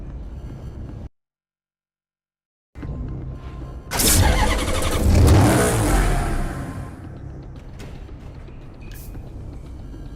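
A car engine in Need for Speed Hot Pursuit Remastered cranks and fires up after a short silence, surging loudly for a couple of seconds before settling into a steady idle.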